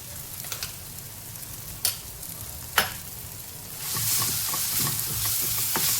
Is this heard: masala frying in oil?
yes